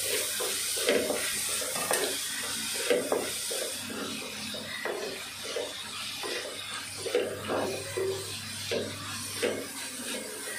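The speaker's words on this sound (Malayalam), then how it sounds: "മഞ്ഞൾപ്പൊടി ഇട്ട് കൊടുത്തിട്ട് നല്ലപോലെ ഇളക്കാം." Sautéed onions with turmeric powder are stirred in a pan for cabbage thoran, a soft, fairly faint sizzle with intermittent scraping and stirring strokes and no talking.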